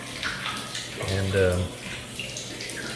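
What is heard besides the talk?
water flowing back from aerobic septic spray heads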